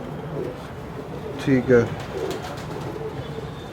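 Pigeons at a racing loft give a short, soft double coo that rises briefly over a background of faint murmuring, and someone speaks a few words.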